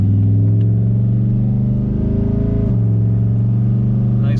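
A car with an LQ4 6.0 V8 and a Texas Speed cam pulls away from a stop sign, a loud, steady engine drone that climbs in pitch, then drops sharply as it shifts and settles into a lower rumble.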